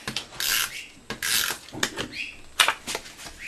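An adhesive tape runner is pulled across cardstock in several short raspy strokes, each a quick close scraping swipe with small pauses between them. No one talks.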